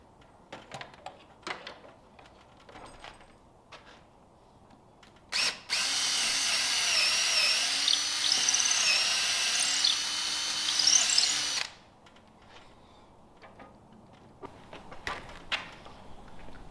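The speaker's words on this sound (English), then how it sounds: "Okay, this board's drilled and ready to go." A power drill bores through a wooden board for barn doors, one loud continuous run of about six seconds with a steady motor whine, set between quieter workshop knocks and handling noises.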